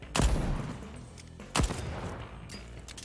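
Video game gunfire in two loud bursts, one at the start and another about a second and a half later, with a quieter shot near the end and a busy game-sound bed between them.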